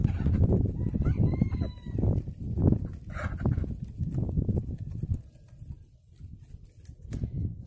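Geese peck and tear at a rotten tree stump, making busy, rapid smacking and clicking noises close by. A few faint bird calls come through the steady gnawing clatter.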